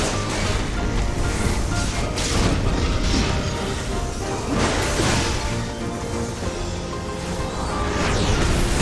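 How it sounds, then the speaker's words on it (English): An explosion trap goes off in the video game Final Fantasy XIV, Eureka Orthos, giving a loud, dense rumbling blast with crashing debris that sustains for several seconds. "Trap. Another explosion."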